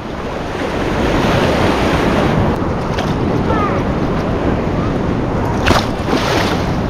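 Rough sea waves churn and wash continuously at a beach in Phuket, Thailand, during a storm, loud and close with heavy wind buffeting the microphone and a brief splash near the end.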